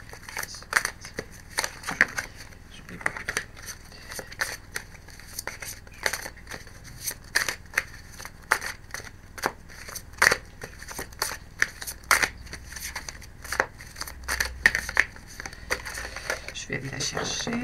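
Tarot cards being handled and shuffled give many quick, close papery flicks, snaps and rustles in an uneven rhythm throughout, with a person talking quietly in French underneath.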